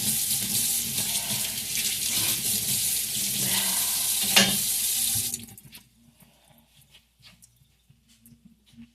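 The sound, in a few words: knife being rinsed under a running kitchen tap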